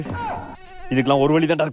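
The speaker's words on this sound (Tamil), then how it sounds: "ஃபேனை ஆஃப் பண்ணா கொசு டிஎட் பாடுது." Mosquito buzzing indoors at night with the fan switched off: a thin, wavering whine that rises close and loud over the second half, after someone speaks at the start.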